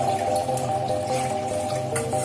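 Tamarind water is poured into an onion and tomato base for fish curry, giving a continuous close-up liquid pour and splash that lasts throughout.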